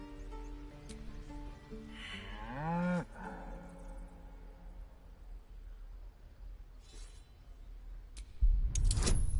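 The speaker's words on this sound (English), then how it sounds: "Do I care for the way that ox is looking at me?" An ox in Baldur's Gate 3 gives a single drawn-out moo with a rising and falling pitch, set in the Druid's Grove. Quiet game ambience runs underneath, and a brief burst of rustling noise follows near the end.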